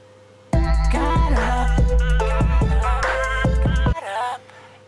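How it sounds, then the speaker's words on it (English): A voice sings a held, wavering phrase through a delay effect, its echoes repeating with wide gaps and trailing off after the singing stops. "if I turn the time up, the delay in between the feedback is going to be bigger"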